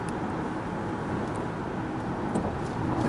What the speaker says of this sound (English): Obviously there's some road noise. This is pretty rough country freeway